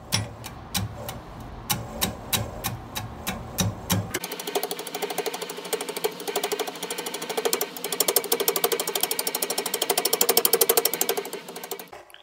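A wood lathe turning slowly while roughing out an irregular firewood bowl blank gives a rapid, even knocking rhythm. Sharp ticks come first, then a denser rumbling clatter takes over and builds in loudness before easing off.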